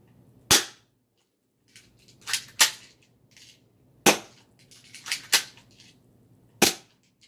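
Suppressed shots from a Walther PPQ pistol fired with a silencer, six sharp cracks spaced irregularly across the stretch, fairly close and loud over a quiet background.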